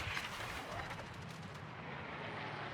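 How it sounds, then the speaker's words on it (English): Warship guns fire shells in a naval video game, producing dense, continuous booming and rumbling. The heavy gunfire overlaps into a sustained roar for the whole short stretch, with no voices. "And he is putting those shells right on target."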